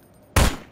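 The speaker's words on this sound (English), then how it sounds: "Just hit it with a shotgun." A single loud shotgun blast fired in the Prop Hunt video game, a sharp close burst that decays over a fraction of a second with no talk.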